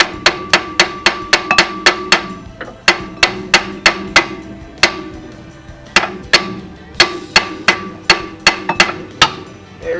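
A hammer raps repeatedly on a seized brake disc stuck to the wheel bearing, giving sharp metallic taps in quick runs with brief pauses between bursts, close and loud.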